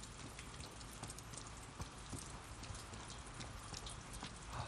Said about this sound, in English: like, you can hear the rain in the background, but also the water hitting all of the metal pieces here